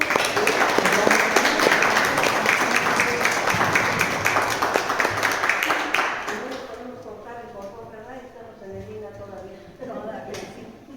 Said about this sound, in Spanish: Recibimos a la doctora con un fuerte aplauso.